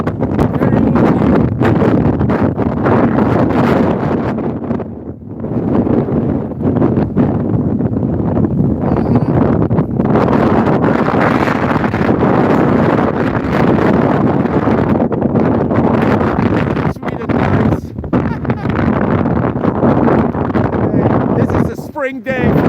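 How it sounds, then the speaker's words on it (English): Strong, gusty wind buffets a phone microphone outdoors on a spring day, a loud continuous roar and rumble with brief dips, persisting the whole time. "look at the wind."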